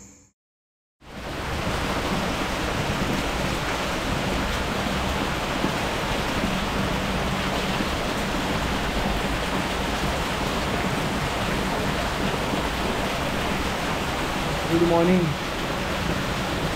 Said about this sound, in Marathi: जो हा पाऊस चालू झाला आहे अगदी गडगडणारा पाऊस आहे.